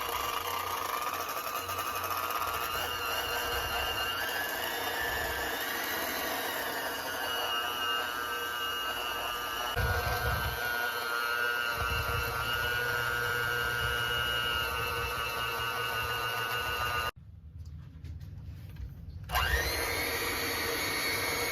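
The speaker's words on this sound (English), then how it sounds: "on me beating it with the mixer. Me mixing this up on medium." Electric hand mixer on medium speed beating cake frosting made with powdered sugar, a steady loud whir running continuously, briefly cutting out near the end before starting again.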